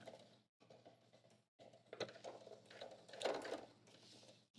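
A sewing machine back-stitches the edge of a pocket in short mechanical bursts with pauses between them, a close whirring clatter that is sometimes quick and sometimes halting.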